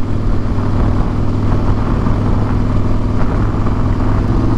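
A Harley-Davidson Fat Boy cruiser on a scenic twisty road, its engine a loud, continuous low rumble up close with steady wind noise throughout.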